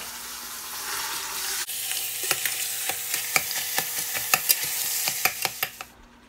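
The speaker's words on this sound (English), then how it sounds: "I'm gonna add in the ground meat and saute this until it is fully browned" Ground meat sautés in hot oil in a pan, crackling and sizzling steadily while a utensil stirs it in sharp scraping strokes, with no voices.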